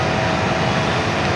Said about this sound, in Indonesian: Nah, KRL sudah masuk stasiun Manggarai.